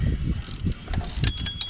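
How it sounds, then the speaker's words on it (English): A 3/8 ratchet with a 13mm socket turning out the tensioner bolt on the front of a 2003 Dodge Ram 1500 Hemi engine, heard as rapid close-up ratcheting clicks under a low rumble. "get your same 3/8 ratchet, pull it off your tensioner here. You need a 13mm socket"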